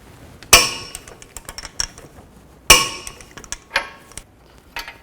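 A wrench tightens the nut on the lower control arm of a 2007-16 GMC Acadia, with two sharp metallic clanks followed by lighter ratcheting clicks and taps close by.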